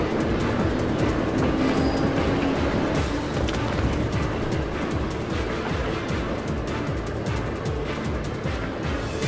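A train runs in the video game Trails of Cold Steel 2, a steady rolling rumble with faint rhythmic clatter, continuous and fairly close, with no talk over it.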